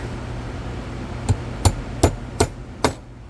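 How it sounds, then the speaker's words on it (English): A small hammer taps a roll pin into an American 2000 puck-style padlock, five sharp metallic strikes spaced about half a second apart, close and clear over a quiet background. "We'll go ahead and get a little hammer, tap that in."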